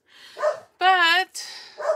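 Dogs giving a short, tonal yelping bark between bits of a person's speech, heard close and fairly loud.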